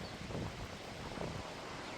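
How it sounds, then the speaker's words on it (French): Strong storm wind roars steadily in Isère, a dense broadband rush with gusting swells and rustling, like leaves or surf, continuous and loud with no voices. "C'est dingue le ronflement du vent derrière."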